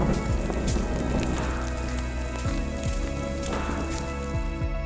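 Dense pattering of hailstones hitting surfaces all around in the mountains of Pakistan, a steady close clatter with no voices.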